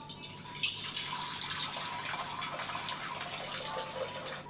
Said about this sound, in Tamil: இன்னும் கொஞ்சம் கூட தண்ணி ஊற்றணும்.